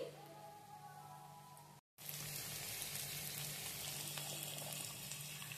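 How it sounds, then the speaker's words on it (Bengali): Chopped onion and green chilli fry in a pan, a steady close crackling sizzle that cuts out briefly and then resumes more brightly, with no speech. "খুব যে লাল করে ভেজে নিতে হবে পেঁয়াজটা তা নয়, হালকা একটু ভেজে নেব আমরা পেঁয়াজটা।"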